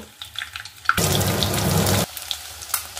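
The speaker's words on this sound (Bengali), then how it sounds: "এবার ডিমগুলোকে গ্যাসটা বাড়িয়ে ভালো করে ভেজে নেব" Eggs, hard-boiled and cut with thread for a Bengali egg curry, hit hot oil in a pan over a raised gas flame, sending up a loud burst of sizzling for about a second before it drops back to quieter kitchen sounds.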